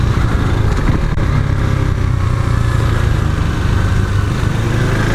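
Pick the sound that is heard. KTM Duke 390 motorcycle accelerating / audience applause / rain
KTM Duke 390 motorcycle accelerating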